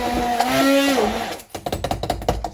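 A countertop blender whirs loudly as it blends pineapple and mango into a smoothie, its motor pitch sliding down as it spins to a stop, then a series of knocking, clunking handling sounds.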